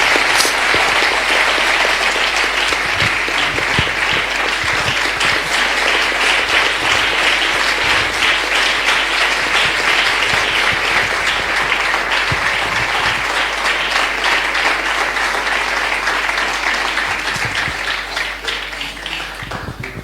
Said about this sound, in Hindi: आइए आगे, तालियों के साथ।